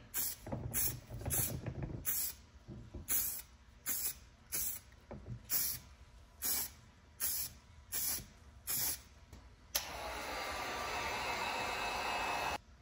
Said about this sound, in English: you don't have to use a heat gun, but I did find that it does provide a little bit better finish